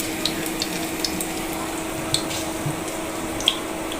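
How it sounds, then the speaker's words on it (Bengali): Lentil fritters (dal bora) frying in hot oil give a steady, close sizzling hiss with scattered small pops and crackles throughout, no talking. "দেখেন কি সুন্দর তেলটা বাগার গরম হইয়া ফুসকুনি করতেছে"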